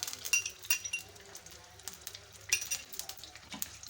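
Onions fry in a cup of cooking oil toward golden brown for Lahori chana, a low sizzle under frequent light clinks and scrapes of a utensil against the pan, close and uneven in rhythm.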